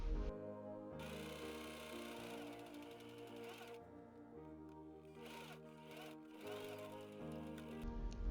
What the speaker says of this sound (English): Now you can sew the sleeve and top together.